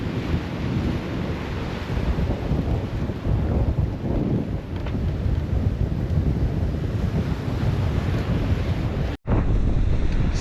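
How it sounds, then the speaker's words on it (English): Sea waves and wind sweep past a boat far out at sea, a steady loud rushing wash with gusty buffeting, briefly cutting out near the end before resuming. "As far as the eye can see, it's the sea."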